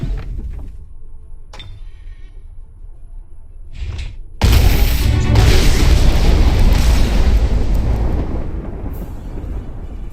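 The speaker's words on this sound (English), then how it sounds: "Put a giant cannon round to his face." A giant cannon round fires in the fantasy strategy game Age of Wonders 3: a few faint clicks and thumps, then a sudden loud booming blast with a long rumbling roar that slowly fades.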